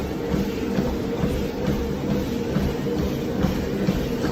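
A heavy-duty Sunny Health & Fitness T7643 walking treadmill runs with a person jogging on it, giving a steady motor and belt hum under regular, evenly spaced footfall thuds. No voices are present.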